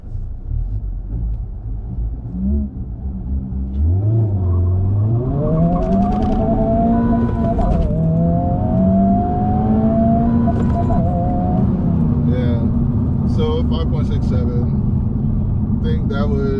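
A 2023 Honda Civic Type R accelerates hard from a standstill on a dusty road, its engine note climbing steadily through the gears with brief dips at shifts, loud and close throughout.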